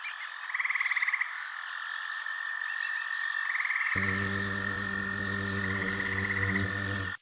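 A frog croaks in repeated rapid pulsing trills over a steady high insect-like drone, joined midway by a low droning hum, fairly close and with no voices.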